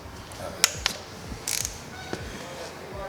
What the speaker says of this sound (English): Now we just gotta tighten up the bolts